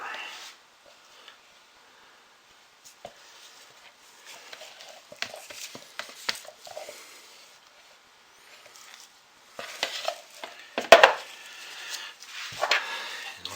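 Oatmeal, milk and honey being mixed by hand, with soft, scattered scraping, patting and rustling that comes and goes in short bursts. It sounds close and quiet and grows busier toward the end.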